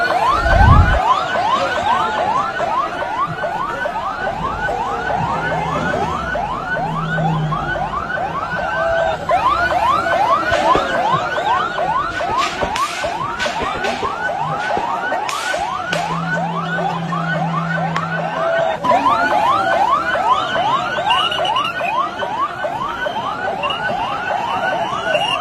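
Ambulance sirens wail continuously in a crowded street scene in Pakistan-administered Kashmir, a loud rapid yelping siren pattern repeating for the whole stretch, with traffic and crowd noise beneath and a few brief horn-like blasts.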